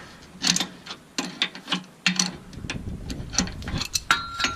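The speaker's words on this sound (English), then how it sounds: "That ratchet drive or the impact drive speeds things up quite a bit" A ratchet wrench turns a bolt on the lower control arm of a 2003 Jeep Rubicon during bushing replacement, giving close bursts of rapid metallic clicking that stop and start in short runs.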